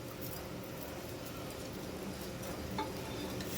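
Kalijira polao rice frying in a pan with fried onion and salt, making a soft, steady sizzle that stays even and fairly faint throughout, with no voices over it.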